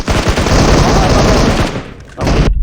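Explosions and dense gunfire from a PUBG Mobile match: loud continuous bursts of shots and blasts fill the clip, dropping briefly near the end before another loud burst, with voices talking over it.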